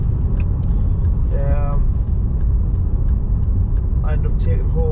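A Maserati Ghibli drives along on a cold morning in Idaho's Teton Valley, a steady low engine and road rumble running throughout at close range, with a voice talking over it.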